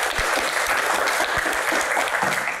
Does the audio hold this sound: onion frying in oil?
no